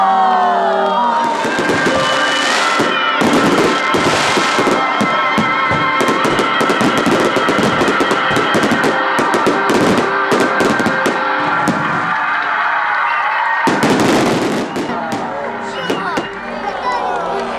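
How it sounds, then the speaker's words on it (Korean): Repeated bangs and crackling bursts of fireworks overhead, launched from a boat over the sea off Odongdo, Yeosu, during a night cruise, mixed with a cheering crowd and excited shouts, loud and continuous throughout. "머리 위에서 터지는 화려한 불꽃의 향연"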